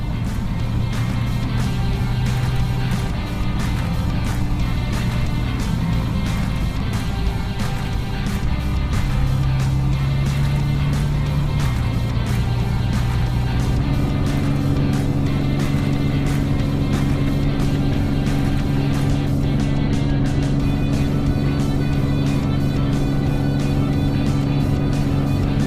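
A Nissan GT-R drives along a road on a long trip from Lincoln City, Oregon toward Sacramento, California. Its engine drones steadily and close, with tyre and road noise, and the engine note shifts pitch partway through as it changes load.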